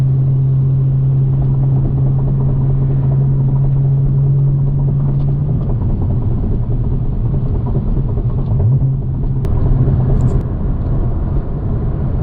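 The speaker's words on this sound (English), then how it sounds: "The PDK shifts through all the gears, no problem." A 2014 Porsche Boxster 981 with a PDK dual-clutch gearbox drones steadily under load, its engine tone holding and then dropping as it shifts, heard as a continuous loud rumble from inside the car.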